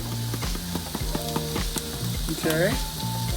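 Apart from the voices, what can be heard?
garlic and onions sautéing on medium heat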